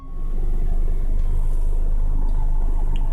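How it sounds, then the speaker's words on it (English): Car in neutral rolling backwards up a hill near a cursed tree, heard from inside as a steady low rumble that rises quickly and holds, with no voices. "We're rolling backwards up the hill."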